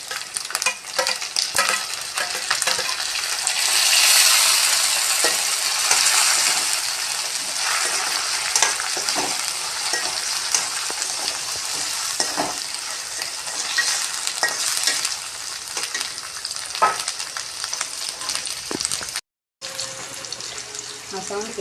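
Tomato frying in a pan with ginger garlic paste for a drumstick (murungakkai) thokku, a steady close sizzle with stirring scrapes throughout, water-like hiss, and a brief dropout near the end; no talking.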